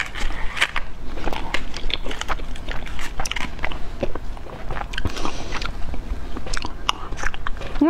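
Crunchy biting and chewing of jasmine-tea-flavoured ice cream, close and steady with repeated crackly bites throughout, no talking.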